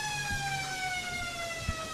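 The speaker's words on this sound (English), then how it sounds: "And the siren sounds in the first quarter here at Williams." A long, steady siren sounds at a country Australian rules football grand final at Williams, marking the end of the first quarter. The tone is held and fairly distant over faint ground noise.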